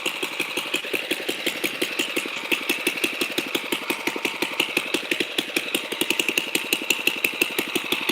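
A Wizard tiller's small engine runs steadily at idle while blowing a little smoke, its rapid, even firing pulses continuing unbroken and close by, with no talking.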